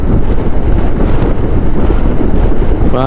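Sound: wind blowing

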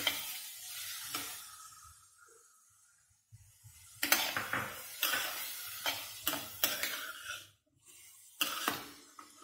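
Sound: boiled sweet corn added to a sizzling pan

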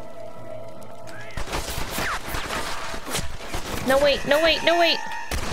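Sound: gunfire in video game Red Dead Redemption

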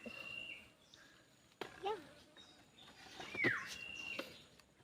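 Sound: bird calling near a cave

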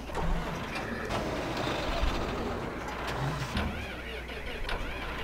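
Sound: Massey Ferguson 6613 tractor engine in Farming Simulator 2015 video game

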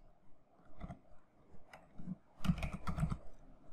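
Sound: typing a file name on a computer keyboard

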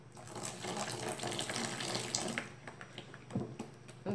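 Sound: liquid being poured slowly for salt detergent

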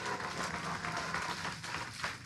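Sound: audience applause for the COO

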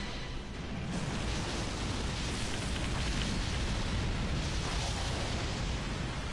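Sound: explosions in a video game

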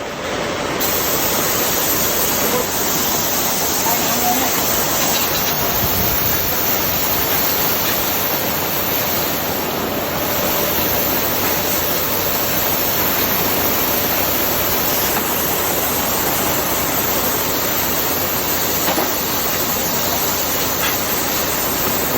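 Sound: heavy rain in Krabi

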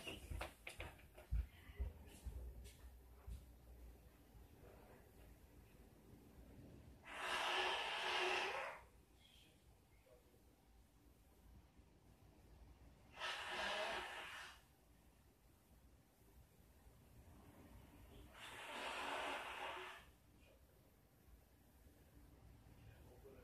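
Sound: blowing nose

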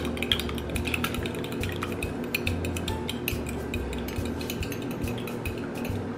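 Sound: whisking eggs in a bowl

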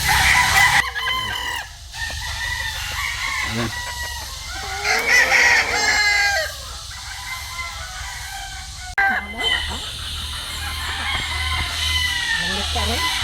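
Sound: chickens clucking and crowing

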